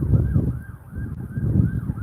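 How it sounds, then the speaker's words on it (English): A wailing emergency siren from passing gas trucks rises and falls repeatedly over a loud low rumble of traffic, fairly close and steady throughout. "Each one of these sirens y'all hear is damn near a gas truck,"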